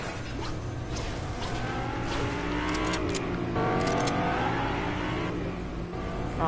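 A car engine revs in a video game, a rough, noisy drone that climbs and falls in pitch with loud, steady intensity throughout, alongside brief whooshing bursts; no speech is heard.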